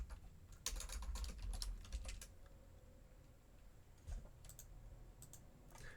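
Fingers type on a computer keyboard while entering Python code, a fast burst of close key clicks, then a pause and a few scattered presses, fairly quiet over room noise.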